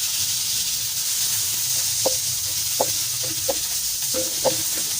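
Garlic and onion sauté in a pan for ginisang mongo, giving a steady loud sizzle with scattered crackles and pops throughout and no talking.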